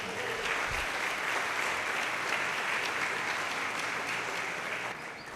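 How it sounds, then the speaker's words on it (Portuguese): A church congregation gives a steady, even round of applause during a sermon, a fairly quiet continuous patter of many hands that trails off at the close. "dá um aplauso a Jesus"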